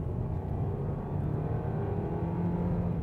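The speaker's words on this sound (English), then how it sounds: "So I'll just nail the throttle here at 50 km/h." A 2024 Hyundai Kona hybrid accelerating hard from 50 km/h, heard from inside as a steady, low engine drone and road roar that builds slightly, with no talking.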